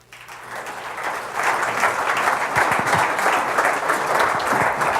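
A conference audience gives steady applause as a speaker is welcomed on stage, building quickly from near silence into a full, sustained round of clapping.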